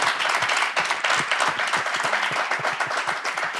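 An audience ovation for filmmakers and actors at a debate event, dense and loud sustained clapping from a large crowd, continuous throughout with slight swells.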